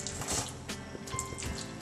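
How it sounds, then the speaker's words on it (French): Vegetable cooking water is poured into a pan of pav bhaji: a soft, quiet trickle and splash that runs for under two seconds, close by and heard alone. "J'ajoute l'eau de la cuisson de mes légumes"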